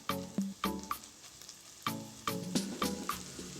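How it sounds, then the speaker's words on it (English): Stuffed squids in a pan for a Goan recheado recipe are stirred repeatedly, a soft sizzle running beneath sharp scraping strokes of the utensil that come in short bursts, close and moderately loud. "Stir occasionally to prevent the squids from sticking to the pan"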